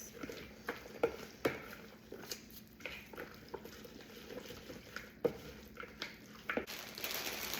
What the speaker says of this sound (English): I'm just going to give this a good mix